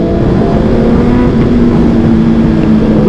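Liter-class superbikes, including a Ducati Panigale, roar steadily at close range, a loud, continuous engine drone with a rising tonal whine through the pass.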